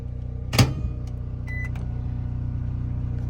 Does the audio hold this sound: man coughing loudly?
no